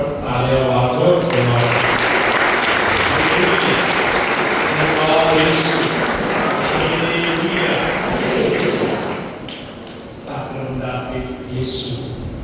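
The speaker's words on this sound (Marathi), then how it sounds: "आपण टाळ्या वाजवत" A church congregation claps together during a Lenten retreat, dense rhythmic applause that stays loud for most of the stretch, then thins and fades near the end while a voice speaks over it.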